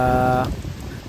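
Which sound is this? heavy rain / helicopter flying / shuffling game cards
heavy rain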